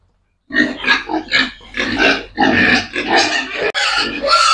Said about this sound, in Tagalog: Gutom tong ating siyam na mga baboy.